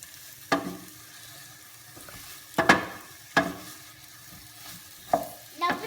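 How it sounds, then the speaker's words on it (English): Red peppers sizzling in melted butter in a pan while being stirred, with a handful of sharp scraping strokes spaced a second or so apart over a quiet background sizzle, close up and with no talking. "The butter now has melted, so I can put the peppers in. And then you have to mix it."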